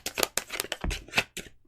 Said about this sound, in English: let me finish shuffling and then I can.